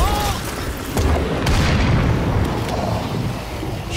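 An explosion in the video game State of Decay 2 sets off a loud booming blast that rumbles on for several seconds and covers everything else.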